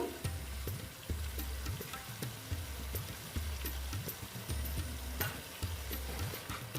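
Vegetarian soybean curry with cashew paste sizzles steadily in a pan while a spoon scrapes through it in regular, rhythmic strokes, close and moderately loud.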